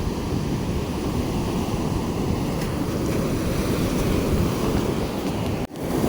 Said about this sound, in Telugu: ఇక్కడ చూడండి మీరు, వేవ్స్ ఇక్కడ వరకు ఉన్నాయి